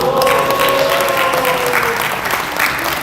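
Steady audience applause fills a book concert in a conference hall, dense clapping sustained throughout with a faint tonal hum beneath and no voices on top.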